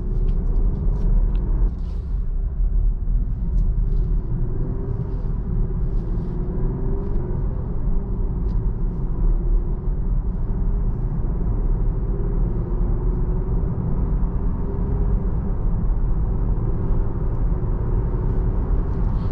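A 2022 Jeep Grand Cherokee drives and turns a corner at full steering lock, its steady low engine and road rumble filling the cabin continuously with no talk.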